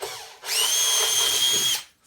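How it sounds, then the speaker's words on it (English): A power drill boring a pilot hole into the centre of a wooden prop tree stump, one loud steady whine lasting over a second, starting and stopping abruptly, close by. "So now I'm just going to drill a pilot hole right in the center"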